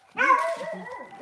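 A single dog barks and yips in a village garden, one close, fairly loud bark trailing into a short whimpering whine, with no talk over it.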